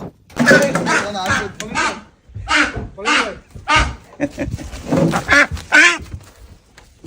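Ducks quack during a barter trade in the Sundarbans, the calls mixed in with several people talking over most of the clip.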